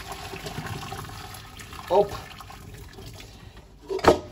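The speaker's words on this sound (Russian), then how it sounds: "Сливаем кипяток в раковину." Boiling water from cooking sausages is poured into a kitchen sink, two short splashing gushes over a steady background hum, with someone speaking nearby.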